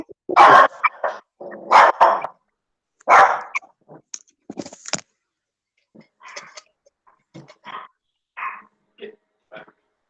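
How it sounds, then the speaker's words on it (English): A dog barks loudly and close in several sharp bursts, then gives softer, scattered barks and growls with quiet gaps between them. "I got a dog here."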